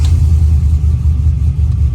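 A car engine idles with a tuned cam lope, a loud, close, steady low rumble that pulses unevenly throughout, with no talking.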